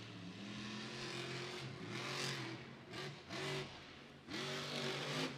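A monster truck engine revs at Monster Jam in Raymond James Stadium, Tampa, loud and close, with repeated throttle surges rising and falling in pitch over a constant roar and no talking.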